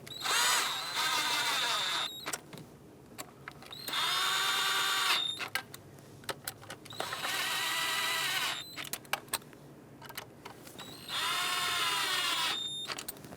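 Knock sensor bolts on a 3.6L engine in a Dodge Grand Caravan being run in with a cordless drill or power driver. There are four separate whirring bursts, each about two seconds long, and light clicks and handling noises fill the pauses between them.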